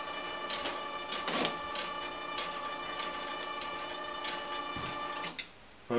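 A LAB500 label machine runs cardboard and paper tags through with a steady mechanical whir and rapid ticking clicks, close and fairly loud, stopping abruptly near the end.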